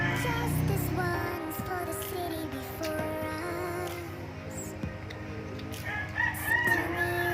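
A rooster crows loudly up close, then chickens cluck and call around it, with a steady background hum and some clatter.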